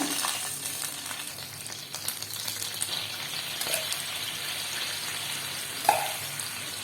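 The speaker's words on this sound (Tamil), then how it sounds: "நல்லா கொதிக்குது பாருங்க" Water bubbles and hisses steadily in a hot pan while making a sweet potato snack, with a brief clink of a spoon near the end.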